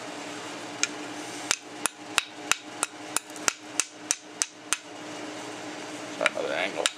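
A stone struck repeatedly to make fire sparks, heard as a rapid series of about a dozen sharp, evenly spaced clacks over a steady background hiss, with a brief scrape near the end.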